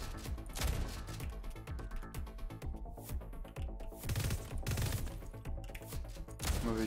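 Bursts of Uzi submachine gun fire in a top-down video game, rapid cracks in several volleys mixed with other game effects and music, fairly dense and continuous.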